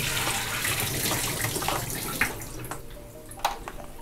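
Tap water runs steadily over sheets of 14x17 X-ray film being rinsed, a continuous splashing rush with a couple of brief sharper splashes near the end.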